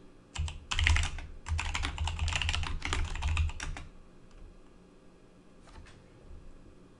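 Someone types a Linux terminal command on a computer keyboard: a quick run of close, crisp key clicks for about three seconds, then a couple of isolated taps in a quiet room.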